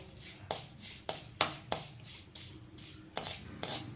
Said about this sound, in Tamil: இப்போ வெந்தயத்தை வறுக்கிறேன்